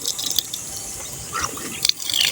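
Water runs into a bladder pressure tank being installed with a five-way connector, a steady splashing fill with a few brief gushes and drips, fairly close, with no talk.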